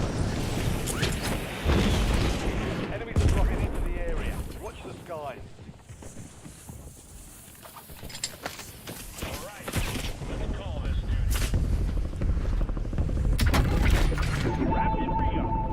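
Rapid bursts of video game gunfire and explosions crackle throughout, mixed with game sounds and someone talking over the action.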